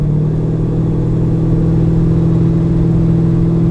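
A 1969 Maserati Ghibli 4.7 sports car on the move, its engine holding a steady, loud, even drone with a deep rumble throughout, with no voices over it.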